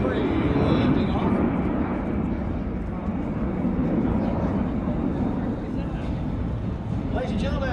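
A Boeing C-17 Globemaster III lifts off at an air force base airshow, its jet engines a broad, continuous roar that holds steady throughout, with a public-address voice over it.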